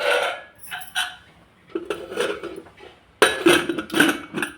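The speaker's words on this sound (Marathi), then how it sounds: "झाकण लावून घेऊ" A metal lid is fitted onto a pressure cooker of green-chilli brinjal curry, giving a few close, sharp clanks and scrapes in short bursts separated by pauses.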